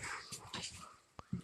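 A dog yelps and whimpers somewhere far off near an abandoned building, a few short thin cries among faint background noise, ending with two slightly louder yips.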